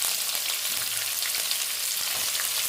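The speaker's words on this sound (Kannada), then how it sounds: "ಈರುಳ್ಳಿ ಚೆನ್ನಾಗಿ ಕಲರ್ ಚೇಂಜ್ ಆಗೋವರೆಗೂ ಫ್ರೈ ಮಾಡ್ಕೊಳ್ಳೋಣ" Onions frying in oil with curry leaves and roasted lentils for chutney powder, a steady close sizzle with faint stirring scrapes throughout and no voices.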